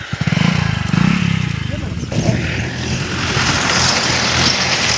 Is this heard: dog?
no